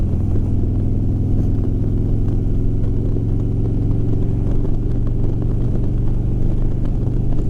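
Steady, loud motorcycle engine drone while carrying a passenger two-up, holding an even low rumble through a smooth gear change with no throttle blips or clutch jerk, close and constant throughout.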